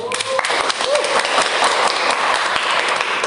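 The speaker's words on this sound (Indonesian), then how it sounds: "tepuk tangan." A student audience at a communication studies talk applauds, brisk clapping close and loud, with voices and excited sounds mixed in throughout the short burst.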